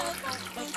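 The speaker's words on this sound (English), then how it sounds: "And then cover this with water." Water pours steadily into a crock pot holding meat and white wine vinegar, a short continuous splashing trickle heard close up.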